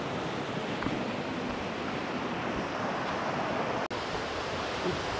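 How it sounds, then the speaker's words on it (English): Water rushing steadily from a tank sluice gate into an irrigation canal feeding paddy fields in Mannar, Sri Lanka, a continuous broad roar close to the microphone with wind noise and no voices. "Now the water is opened through this canal and it is flowing to the paddy fields."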